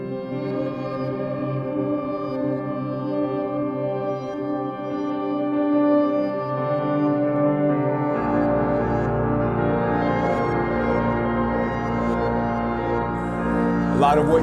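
Sequential Prophet XL synthesizer playing a hybrid patch of looped piano tones moving back and forth, sustained layered chords that swell into a fuller, denser texture halfway through, no talking.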